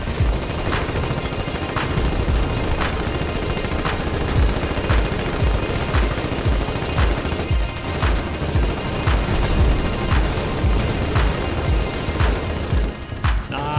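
Battlefield gunfire in the war game Foxhole, with sharp shots cracking at a steady, fairly regular pace over a dense, loud background rumble of distant combat and one artillery round, no voices.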